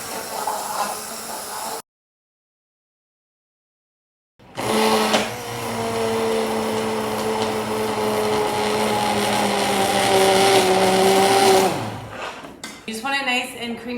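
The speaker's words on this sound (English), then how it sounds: "I'm gonna use a hand blender. You could use a Vitamix. You could use a Ninja, whatever works for you, and I'm just gonna blend it while it's on." A hand blender whirs steadily in a pot of hot strawberry sauce on the stove, a loud continuous motor drone with a shifting pitch that runs for about seven seconds and then cuts off, following a brief silence.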